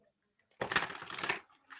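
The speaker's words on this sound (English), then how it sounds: "Do you have a question for the cards while I'm shuffling?" Tarot cards being shuffled up close in a single dense burst lasting under a second, starting abruptly after near silence, with faint activity trailing off afterward.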